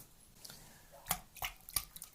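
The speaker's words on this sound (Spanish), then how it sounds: "Se mojan tantito los dedos, las manos." Wet hands press and pat corn tortilla dough (masa) close by, giving soft squishy, slapping contacts, with about four distinct moist smacks over quiet background and no speech.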